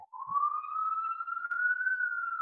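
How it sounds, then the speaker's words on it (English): A single siren tone rises slowly and holds steady, sounding fairly close and clear against an otherwise quiet background. "And there's the siren right on cue there."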